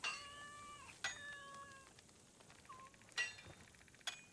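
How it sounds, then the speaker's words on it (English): A cat in Assassin's Creed Shadows gives several short, clear meows with rising and falling pitch, separated by brief pauses and a few soft clicks. "That sounds so unlike a cat, but I'm not gonna question it."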